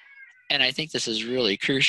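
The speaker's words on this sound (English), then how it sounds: "Oh, that's my cat." A house cat meows loudly and close by in repeated drawn-out calls, overlapping a person who keeps talking steadily indoors.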